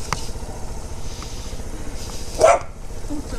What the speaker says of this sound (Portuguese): Ai, o cadelo, o cadelo.